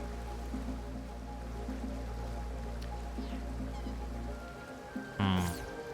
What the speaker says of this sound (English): Okay, waterfall number 1.